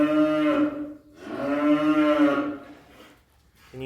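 Cattle on a farm low loudly in two long, close, drawn-out moos, the second fuller and longer, with a brief third call starting at the end; a farm setting during feeding.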